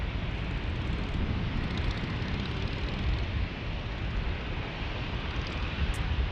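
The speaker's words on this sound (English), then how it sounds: "So this 757-300 is going back to Atlanta" A Boeing 757-300 airliner at San Diego airport roars with a broad, steady jet rush that holds for several seconds without breaks, loud and continuous, with no talking.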